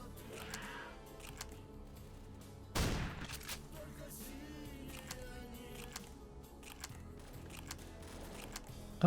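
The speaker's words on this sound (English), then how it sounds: "Oh wait, I hear gunshots from back there." A sharp gunshot bursts out amid a busy Dead Air survival game soundscape, with scattered fainter pops and clicks around it.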